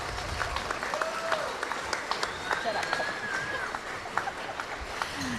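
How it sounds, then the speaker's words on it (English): Spectators at a high school basketball game in a gym applaud steadily under an announcer's voice, with squeaks and short whistle-like tones scattered through the dense clapping. "one last round of applause for these outstanding athletes."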